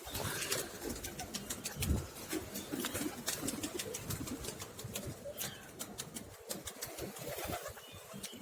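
Pigeons coo softly in a loft, low repeated throaty calls over a faint ticking background, with a brief wing flutter partway through, quiet and close.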